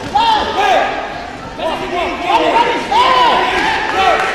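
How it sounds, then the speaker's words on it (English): A crowd cheers wildly during a brawl between two fighters, loud sustained roaring and shouting with a commentator talking excitedly over the noise throughout. "The crowd are going wild"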